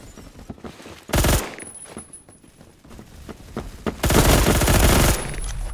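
The M231 rifle fires in the game Phantom Forces: two loud, rapid full-auto bursts, a short one and then a longer one of about a second, separated by quieter clicks and steps.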